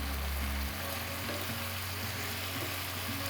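Finely cut silverbeet dropped into a pan of chorizo tomato sauce, giving a steady, close sizzle and bubbling frying sound throughout, with no talking.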